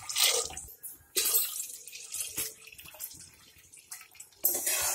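Water is poured into a pan of simmering bean khiri in bursts, splashing and trickling in several short pours with quiet gaps between.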